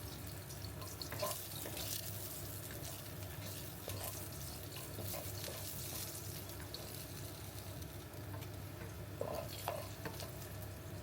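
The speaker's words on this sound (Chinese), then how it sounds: "再倒一些橄榄油， 放入切好的大蒜" Chopped garlic frying in olive oil in a home kitchen, a steady close sizzle with stirring clinks and scrapes over about eleven seconds, plus a running-water hiss in the background.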